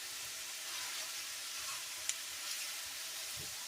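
Onions and fresh sausage frying in a small oval pot for Cajun rice and gravy, giving a steady close hiss and sizzle with faint crackles and one small pop.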